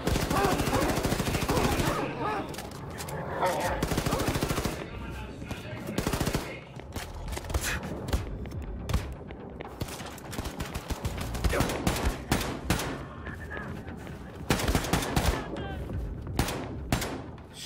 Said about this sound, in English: Shoot.